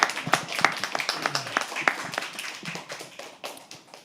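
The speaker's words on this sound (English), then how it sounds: "Can we please have a round of applause for her?" A small open-mic poetry audience gives a round of applause, scattered irregular claps close by that thin out and soften toward the end.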